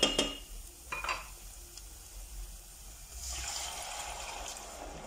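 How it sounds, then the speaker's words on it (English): Tomato paste and spices in a pan for butter paneer bubble and sizzle softly after water is added, with a few clinks of a utensil against the pan early on, then a steadier hiss. "I'm going to be adding in my water and let this simmer out for a bit."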